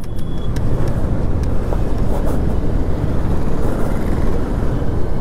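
Peak-hour road traffic in Bangalore, India, heard from a Hero Xpulse 200 4V Pro Rally Edition motorcycle, a dense, loud, constant roar of engines with wind buffeting the microphone and no voices.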